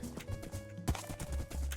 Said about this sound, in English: Back on the horse.